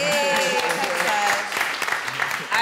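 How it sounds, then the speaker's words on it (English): An audience at a live talk-show recording applauds a guest singer, a dense burst of clapping that is loud and close at first, then thins out as a voice begins speaking over it. "Can we clap for Sasha quick?"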